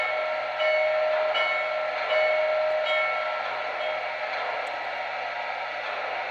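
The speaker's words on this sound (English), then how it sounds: "Here's the bell." Steady mechanical bell ringing from a Lionel PRSL E6 4-4-2 model steam locomotive with TMCC sound, a continuous bright clanging that holds at an even level alone with no talk.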